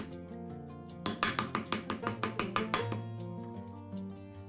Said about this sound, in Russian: Мясо немного отбиваем молотком с 2 сторон.